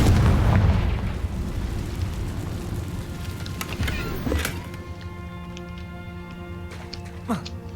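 A Confringo blasting spell explodes in the video game Hogwarts Legacy, a loud booming burst at the start that rumbles and fades over several seconds into a quieter, ringing game soundscape.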